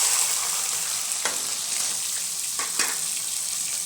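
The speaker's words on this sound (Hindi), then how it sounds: "ऑयल हमारा गर्म हो गया है, तो इसमें हम डालेंगे प्याज," Onions and green chilies frying in hot oil for achari bhindi, a steady close crackling sizzle with a few louder pops and stirring scrapes.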